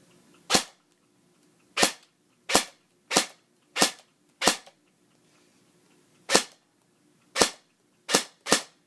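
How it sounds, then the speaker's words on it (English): Custom JG G36 airsoft rifle firing in a shooting test: ten sharp, loud single shots spaced irregularly about a second apart, crisp snaps with quiet gaps between, no talking. "let's get on to the shooting test"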